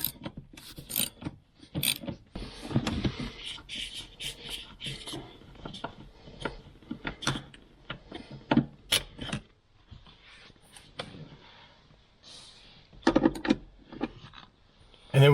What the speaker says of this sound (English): We're going to use a 13mm socket and an extension to get this one out.